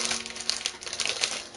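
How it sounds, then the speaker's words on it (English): Close crinkling and rustling of a plastic bag, irregular bursts of crackles handled up near the listener. "Can you hear the rustling of the plastic bag?"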